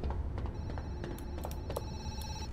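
An old-style telephone bell rings repeatedly inside the haunted zoo of the video game Zoochosis, a steady series of bright, clear rings over a low ambient hum, with no talking.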